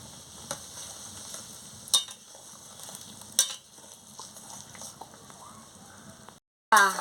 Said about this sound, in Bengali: জলটা দিয়ে ভালো করে নাড়িয়ে নিচ্ছি